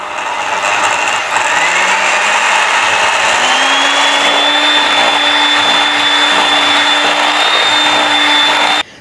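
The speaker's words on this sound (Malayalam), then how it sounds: "5-6 മിനിറ്റ് നല്ലപോലെ ബീറ്റ് ചെയ്തു" Electric hand mixer beating butter and sugar for a tea cake, a loud continuous motor whine whose pitch steps up and holds steady, running without pause until it cuts off at the end.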